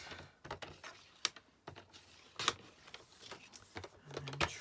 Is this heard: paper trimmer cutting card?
yes